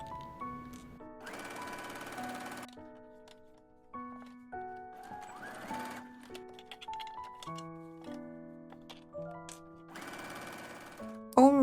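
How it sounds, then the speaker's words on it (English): A sewing machine stitches a seam on a sleeveless maxi sundress in short bursts, stopping and starting several times, with harmonic music playing throughout. "Start sewing from the center."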